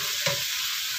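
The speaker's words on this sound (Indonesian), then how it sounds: "Karena saya mau terus goreng ubi." Sweet potato frying in a pan over lowered heat gives a continuous bright hiss with one short clink or stir early on, steady and close.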